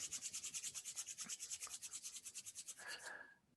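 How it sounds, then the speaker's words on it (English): Two hands rubbing together vigorously, palms and backs, in a fast, even back-and-forth rasp repeated about twenty times at close range before slowing and stopping, with no voices. "Rub the back of your right hand, palms together again."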